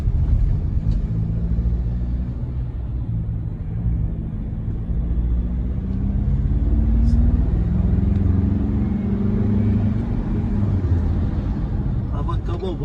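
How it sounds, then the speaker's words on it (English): A 2022 Ford Ranger Wildtrak with a turbo engine pulls from inside the cab with a deep, steady rumble that rises and swells. A person talks over the engine. "That means you step the accelerator, instant power."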